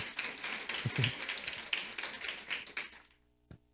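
Audience clapping at a seminar for a colleague named Marina, a dense patter of hands lasting about three seconds before fading out, ending with one isolated tap.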